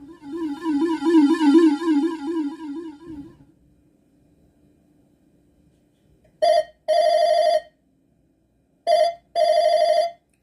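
A telephone rings in two short double bursts, loud and close, after a few seconds of a wavering tone and near silence.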